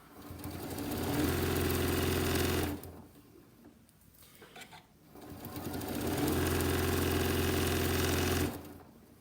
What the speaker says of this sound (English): I'm going to go ahead and adjust my speed because I can sew a little faster.